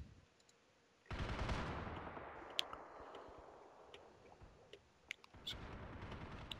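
Ambient battlefield gunfire in the war strategy game Men of War: Assault Squad 2, scattered distant rifle cracks and bursts over a rumbling wash, with sharp isolated shots cutting through.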